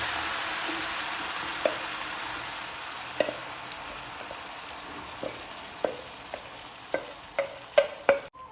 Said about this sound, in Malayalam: ബീഫ് ഇട്ടതിന് ശേഷം നല്ല ഇളക്കി കൊടുക്കട്ടോ